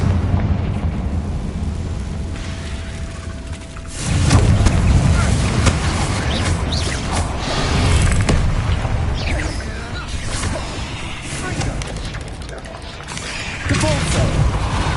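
Confringo fire spells in Hogwarts Legacy burst in a string of booming explosions, heavy low thuds and crackling debris layered over a noisy battle soundscape, with several impacts spread across the stretch.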